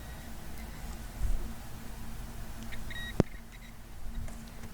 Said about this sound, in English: That beeping sound lets me know if current goes through.